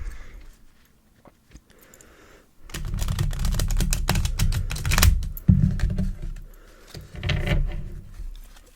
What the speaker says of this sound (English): I really wish I knew how to bridge the cards after shuffling them.